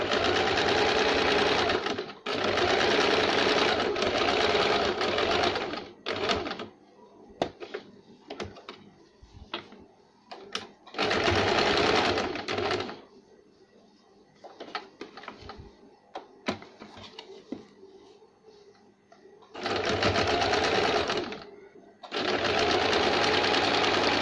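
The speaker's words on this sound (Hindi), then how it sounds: "सीधा करने के बाद इनके ऊपर हमें एक सिलाई लगाएंगे।" A sewing machine stitching pieces of a baby frock, running in several long fast rattling bursts separated by pauses filled with handling clicks and fabric shuffling; close and loud, with a little speech during the gaps.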